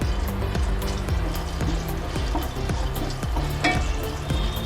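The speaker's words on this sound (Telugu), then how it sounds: "ఈ పప్పు కొంచెం ఫ్రై చేయాలండి" Chana dal sizzling in a little hot oil in a pan for Telangana-style tomato chutney, a steady close frying crackle with repeated soft knocks of stirring.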